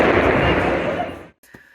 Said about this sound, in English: some gunshots were also fired